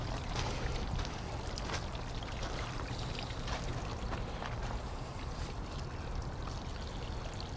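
Water pours from a watering can and splashes steadily onto fig cutting leaves and soil, a continuous close trickling with small irregular spatters, no voices.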